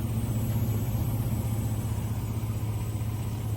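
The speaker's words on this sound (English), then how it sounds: "I'll pick this back up once it idles down so you can hear how bad the whine is" An idling Chevy Blazer with a failing fuel pump runs nearby, a steady low engine drone under a thin, constant high-pitched whine, no talking.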